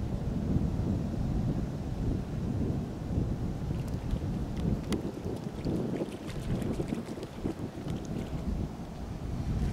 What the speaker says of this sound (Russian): Ветер сегодня очень сильный. Зато он теплый, южный.